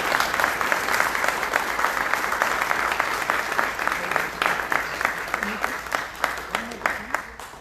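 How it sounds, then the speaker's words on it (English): Sustained audience applause at a city mayoral candidate debate, a full room clapping steadily with some sharper individual claps standing out toward the end. "Let's give them a round of applause."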